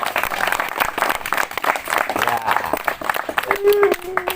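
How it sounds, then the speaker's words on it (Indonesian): Hands clap together in a lively burst of applause at an Indonesian topeng Jantuk performance, mixed with chatter and a voice talking over the clapping throughout. "kita tepuk tangan dong"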